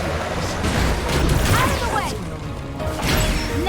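Repeated booming blasts and crackling impacts from enemy attacks in the Scarlet Nexus action game, dense and continuous across a short burst of combat.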